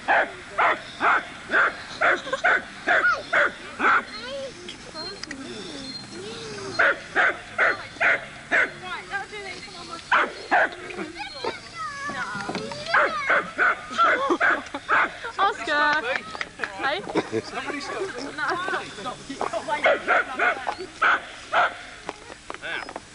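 A dog barks repeatedly in short bursts and whimpers close by, tied to a roundabout at a recreation ground in Soham in 1986, with people talking over and between the barks.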